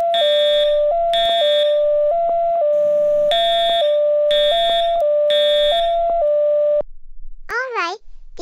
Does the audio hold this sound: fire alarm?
yes